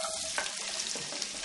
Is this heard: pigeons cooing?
no